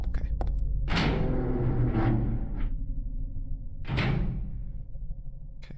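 Heavy door in Silent Hill 3 slides and thuds open twice, loud close bursts of scraping noise a few seconds apart, with a voice talking around them.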